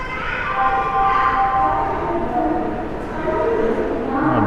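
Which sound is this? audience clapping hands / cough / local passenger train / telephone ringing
local passenger train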